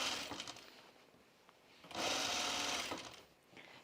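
A sewing machine stitches a dress hem, running in short bursts with a longer steady whir in the middle, fairly quiet and close with no talking.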